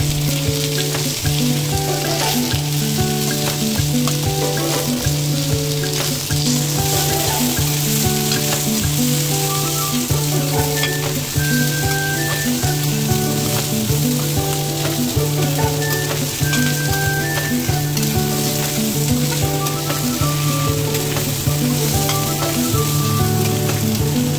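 Chicken wings sautéing in a hot pan give a loud, steady, dense sizzle and crackle that runs unbroken throughout, close up, with no one speaking.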